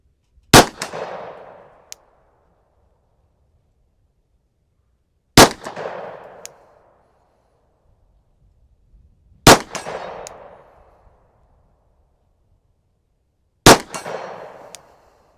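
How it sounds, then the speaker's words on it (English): Four sharp Glock 19 pistol shots, each followed by a ringing clang from a steel target struck at 50 yards, spaced about four seconds apart with silence between. "We're giving the Glock 19 another go at 50 yards."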